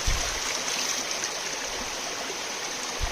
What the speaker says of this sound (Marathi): आता हे बघा जोरात पाणी येते